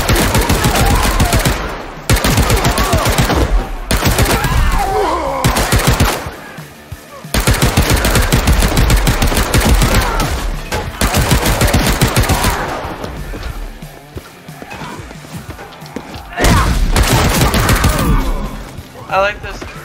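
Rapid bursts of submachine gun fire from the video game Paint the Town Red, loud and close, coming in long strings separated by short pauses, with game sounds filling the gaps.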